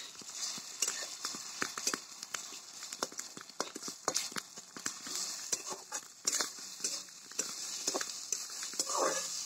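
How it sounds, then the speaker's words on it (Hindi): Eggs fry in a kadai for egg biryani, giving a steady high hiss dotted with sharp popping and spattering clicks of uneven rhythm, close and moderately loud. "उसको अच्छी तरह से फ्राई करेंगे अंडा को।"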